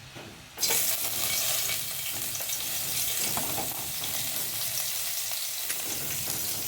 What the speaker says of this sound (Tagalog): nalagyan ko na nga pala ng oil. Lalagay na natin yung bawang